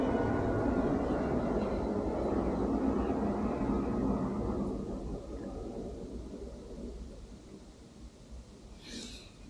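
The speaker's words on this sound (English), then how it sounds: "Pardon the airplane." An airplane passes overhead as a broad, low roar that starts strong and slowly fades over several seconds, distant and fairly quiet, with no talking.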